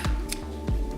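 Scissors snip through braiding thread for a kumihimo bracelet, giving two sharp, close clicks about half a second apart in a quiet room.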